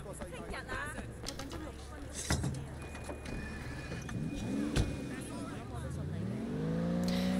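A stolen car driving in the video game Sleeping Dogs, with engine rumble and revving that rises toward the end, plus a few bumps and thuds, heard under someone talking.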